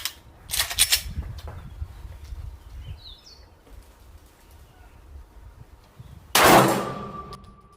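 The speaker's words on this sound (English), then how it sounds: "Took me 4 rounds to hit the plate with this Sig Sauer. Glock 43X." Two loud, sharp pistol shots from a Glock 43X at a shooting range, several seconds apart, each a crisp crack with a short ring, with quiet outdoor ambience and faint bird calls between them.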